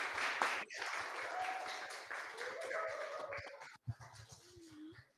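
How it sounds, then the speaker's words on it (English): Audience applause in a room after a group presentation session, sustained clapping with brief dropouts, joined by a dog whimpering and some faint voices. "As you can hear, everyone in the room is clapping"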